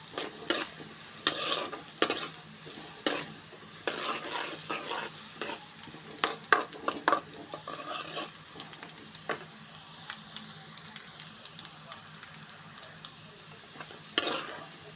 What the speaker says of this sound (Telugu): మంచిగా వేగుతున్నాయి కాకరకాయలు ఇలా వేగాలి